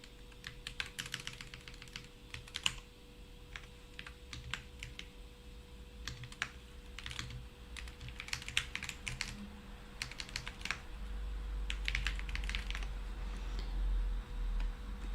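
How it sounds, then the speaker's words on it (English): Typing on a computer keyboard, with irregular bursts of close, crisp key clicks separated by short pauses and a faint low hum behind. "man, what's with my typing?"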